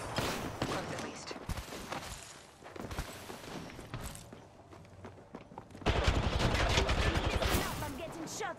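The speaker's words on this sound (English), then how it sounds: "Stop, I'm getting shot at." Video game gunfire, with bursts of rapid shots and scattered thuds, growing louder and denser toward the end, mixed with other game sounds.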